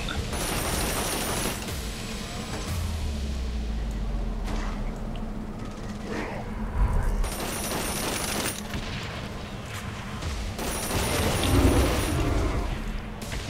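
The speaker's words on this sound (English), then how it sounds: "So many explosions. Missiles." Dense, continuous barrage of explosions and missile impacts from chaotic Saints Row: Gat Out of Hell gameplay, with repeated bursts swelling louder around the middle and end over a constant rumbling bed.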